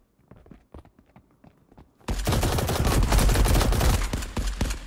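Several shooters firing at once in the video game Marauders. Soft footsteps come first, then a sudden, loud, sustained burst of overlapping gunfire that continues to the end.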